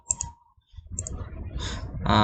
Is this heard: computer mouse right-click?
yes